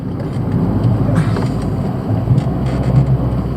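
A Fiat 500 with a 1.2-litre 8-valve engine drives on tight Polish mountain bends, its low, steady engine drone and road rumble heard from inside the cabin, with a faint rise and fall in revs.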